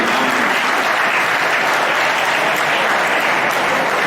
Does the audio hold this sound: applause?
yes